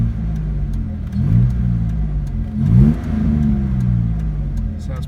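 A 2001 Ford Mustang with a 3.8L V6 and custom exhaust rumbles at idle and revs up twice in quick throaty surges, loud and close, with no talking over it.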